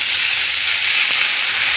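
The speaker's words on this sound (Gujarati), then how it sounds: "તો મેથી આપણે ધોઈ નાખી હતી એટલે આ તળતળ બોલે છે" Washed fenugreek leaves roasting in a kadai give off a loud, steady, close sizzling hiss that holds without a break.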